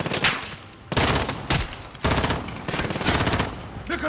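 Rapid automatic gunfire from the video game Modern Warfare, several loud, close bursts of shots separated by short pauses.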